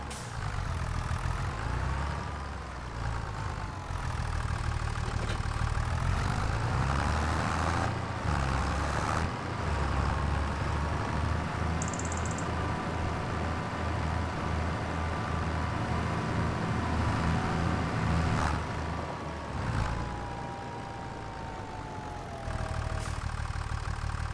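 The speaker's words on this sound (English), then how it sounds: "let's go and grab this tractor here" A tractor engine idles and runs steadily in Farming Simulator 25, a continuous loud mid-pitched rumble throughout with slight shifts in tone and no talking.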